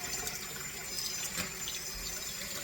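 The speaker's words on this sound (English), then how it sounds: "I'm getting hot water to heat this bowl up" Hot water runs steadily from a kitchen tap into a bowl being warmed for oat bread dough, a continuous close splashing hiss with no talk.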